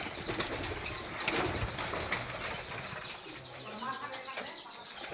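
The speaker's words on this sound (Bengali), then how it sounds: "এই যে কবুতররা এরকম পুরাতন জায়গায় থাকতে পছন্দ করে" Pigeons flutter and shuffle close by in an old village house, with soft wing flaps and faint cooing in a noisy, echoey space.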